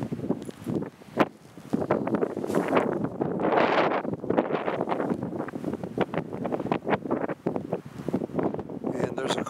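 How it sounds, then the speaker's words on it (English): Cold wind blowing outdoors in the Allegheny Mountains among scrawny pine and oak trees, a loud, steady rushing buffet that roars against the microphone. "And there's a cold wind blowing."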